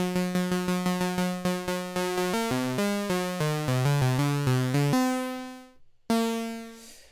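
A bright, buzzy MiniBrute 2S analog synthesizer sawtooth wave with ultra saw chorus plays a quick run of short, evenly paced notes, then holds one long thick tone that cuts off and briefly returns.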